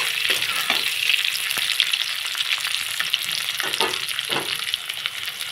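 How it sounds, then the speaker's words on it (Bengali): Chopped onion and black cumin (nigella seeds) fry in hot oil for a spicy parshe fish curry with green chillies, giving a steady, close, dense sizzle with small crackles throughout and no talking. "পেঁয়াজ আর কালো জিরেটা একটু ভেজে নেব।"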